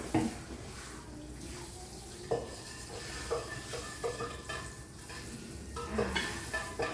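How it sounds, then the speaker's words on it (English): Caramel sauce being stirred into a drink, with a spoon scraping and clinking in repeated bursts against the cup, close and moderately loud over a faint background hiss. "Time to mix in the caramel sauce."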